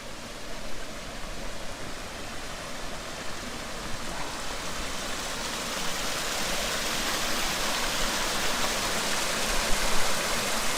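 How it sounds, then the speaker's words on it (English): A small waterfall gives a steady, broad rush of falling water that grows slightly louder and brighter toward the end, with no voices. "It's not a huge waterfall, but it is gorgeous."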